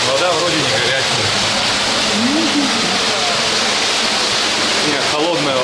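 Water rushing steadily through an underground river collector, a dense, loud, continuous roar filling the enclosed space with no break across the whole stretch.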